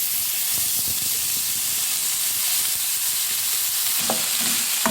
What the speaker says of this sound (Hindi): इसको हमने हल्का सा फ्राई कर लेना है।